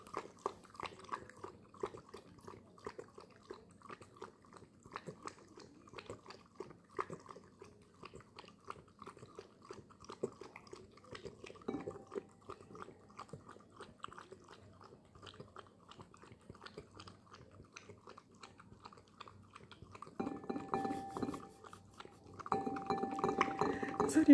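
A dog laps broth from a bowl with steady, repeated wet slurps and faint clinks, growing louder and busier toward the end, close by, with no talking.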